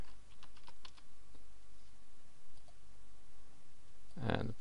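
Quick clicks of typing on a computer keyboard while logging into WordPress, faint, scattered keystrokes ending in a louder burst of taps, heard alone at a low level.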